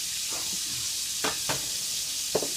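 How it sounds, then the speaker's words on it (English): Shrimp searing in a pan with toasted garlic for a Mediterranean dish, heard as a steady close sizzle with a few soft stirring knocks scattered through. "Searing off your shrimp."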